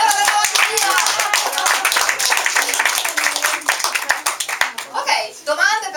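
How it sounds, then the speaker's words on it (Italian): Audience at a book event with an author in Verona claps continuously, crisp hand claps close by with voices mixed in, tapering off near the end. "Un applauso alla signora della mattina!"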